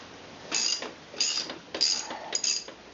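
An adjustable wrench works on the rear axle of a Yamaha XT250 motorcycle, giving four short, faint metallic clicking ratchet bursts spaced about half a second apart, with no talking.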